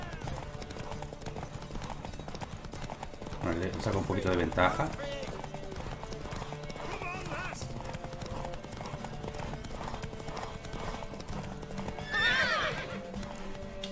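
A horse gallops during a race in a video game with rapid, rhythmic clip-clop hoofbeats throughout and a couple of loud whinnies. A voice talks over the galloping.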